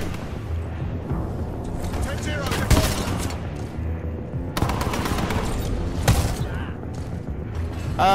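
Rapid automatic gunfire from the Spitfire machine gun in the shooter Titanfall 2, loud dense bursts with sharp shot spikes amid busy combat noise, a voice talking over it.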